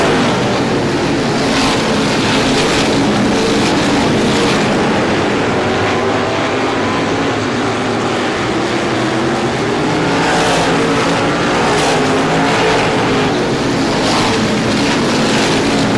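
Race cars in a short-track oval race thundering wing to wing down the front straightaway, a loud continuous engine roar that swells and shifts as the pack passes.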